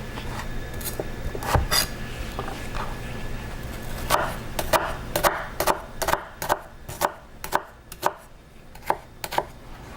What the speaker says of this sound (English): Keep the skin on until you cut your onion in half